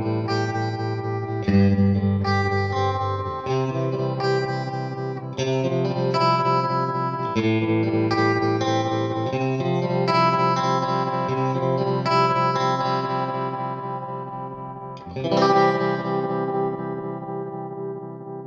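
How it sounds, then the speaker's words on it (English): A Flux Effects Liquid Tremolo guitar pedal on its slice contour setting chops sustained distorted guitar chords into rhythmic pulses with short muted gaps, loud and close, with a fresh strummed chord near the end. "This is a slice contour. It's kind of a short muted gap."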